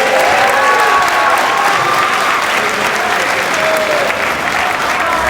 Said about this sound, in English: let's give one more big round of applause to your 14 athletes signing today